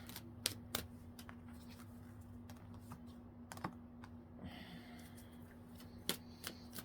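Tarot cards being shuffled and flipped close by, with a string of quiet, sharp papery snaps and flicks spaced irregularly over a faint steady background hum.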